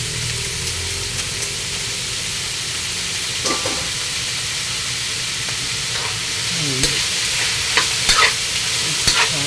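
Ground pork (giniling) frying in a pan for spaghetti sauce, a loud, steady sizzle with occasional scraping stirs throughout.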